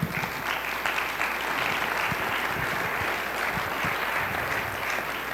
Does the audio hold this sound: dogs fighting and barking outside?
no